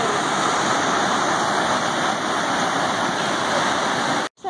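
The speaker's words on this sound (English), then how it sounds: "that's powerful water right there." Powerful river water pours over a dam in a loud, constant roaring rush, close and unbroken, cutting off briefly at the very end.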